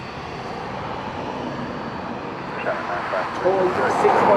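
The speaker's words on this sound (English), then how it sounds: "Toy 653 to Zurich. Embraer 135 Legacy, call sign Toy 653, and it's Toyo Aviation." An Embraer 135 Legacy business jet of Toyo Aviation, heading to Zurich from Dublin Airport, produces a steady broadband engine roar that swells slightly toward the end, with voices talking over it.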